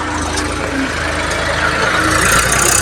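A tractor engine idles on a farm, a steady, close, loud mechanical rumble with a low throbbing pulse and no talking over it.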